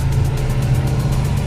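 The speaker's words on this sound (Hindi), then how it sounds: "तो गाड़ी चढ़ रही कांटा पे" A loaded truck at a border weighbridge creeping up onto the scale, giving a steady low engine drone with a faint rhythmic pulsing overhead.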